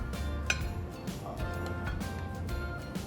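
Stuffed calamari being set into a serving dish brings light clinks and taps of utensils against dishware, scattered and close over a steady background hum.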